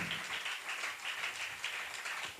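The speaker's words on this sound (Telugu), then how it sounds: "అందరూ చప్పట్లు కొడుతూ ప్రభుని కనపడదాం గట్టిగా" Church congregation clapping together during a Sunday worship service, steady dense applause of many hands filling the room throughout, moderately loud with no voices over it.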